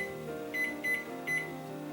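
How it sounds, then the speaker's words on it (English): A kitchen timer is set on a stovetop beside a pot of beer cheese soup, giving a few short high electronic beeps over a faint steady background hum. "So now I'm going to set my timer."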